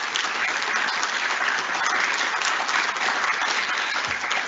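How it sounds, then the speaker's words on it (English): Audience members at a Guilford Tech signing day ceremony applaud students in an advanced manufacturing program, giving a steady, dense round of clapping that holds at an even level throughout. "So give them a round of applause."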